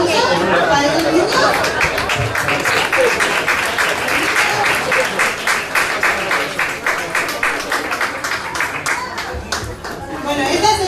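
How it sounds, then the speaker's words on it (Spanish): A church congregation breaks into sustained applause for the children, a dense, steady wash of many hands clapping with crowd chatter mixed in, fading slightly toward the end. "damos un aplauso para los niños"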